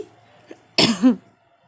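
A single close, harsh cough with a brief throat-clearing quality, preceded by faint quiet sounds and followed by silence.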